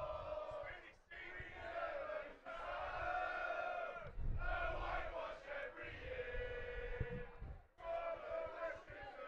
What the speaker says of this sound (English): Rowdy crowd